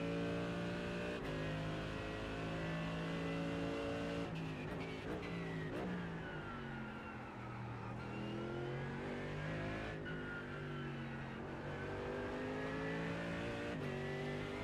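Mercedes-AMG GT3 race car engines roar and rev at Imola in iRacing, with steady high-pitched harmonics rising and falling through gear changes and corners, sustained and loud with no talking.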